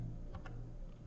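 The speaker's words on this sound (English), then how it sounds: "I will start typing." Typing on a computer keyboard during a CAD software exercise, a couple of faint, close keystroke taps over a steady low hum.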